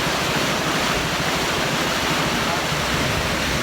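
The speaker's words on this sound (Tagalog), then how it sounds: "Ay, ang lakas ng tubig." Strong rushing water pours through an irrigation channel in a remote rural spot as a dense, constant roar, loud and close with no break.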